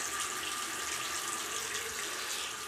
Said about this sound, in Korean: 지금 가끔 화장실에 물소리 날 때 있어